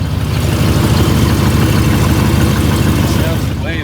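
A 1969 Chevelle's engine idles steadily after warming up, a loud, continuous low rumble with even pulsing throughout, heard close and without a break.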